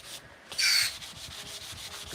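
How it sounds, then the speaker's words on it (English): Brass metal is rubbed by hand with sandpaper in short, repeated scraping strokes, one louder burst up front followed by a steady rhythmic rasp, close and clear with no talking. "Sanding"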